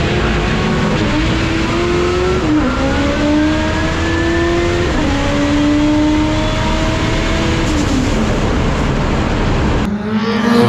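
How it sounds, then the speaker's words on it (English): Race car engine at a PSCA qualifying race, running rough and down a cylinder, droning loudly with uneven revving pitch that rises and dips over about ten seconds, no talking. "Oh, Morgan sounds down a cylinder"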